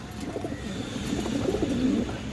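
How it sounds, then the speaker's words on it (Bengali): A female Chini Kaldom pigeon with white nails and beak coos in low, rolling pulses that swell and repeat steadily at close range, with no voices over it. "একটা চিনি কালদম মাদি কবুতর আছে"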